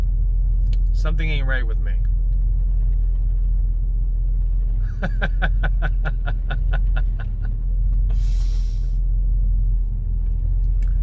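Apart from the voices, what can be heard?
conversion van with Flowmaster 40 Series muffler exhaust rumbling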